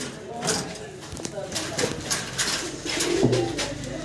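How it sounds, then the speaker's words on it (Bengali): Large Gopalganj pigeon with red eyes and a big white tail, cooing amid a busy pigeon farm, with someone talking over it close by. "এটা গোপালগঞ্জের বড় পায়রা, নাইরা মাথার"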